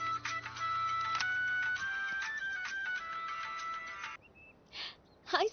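Electronic ringtone from a phone on speakerphone, a steady repeating melodic tone that cuts off, followed by faint breaths and a short noisy burst.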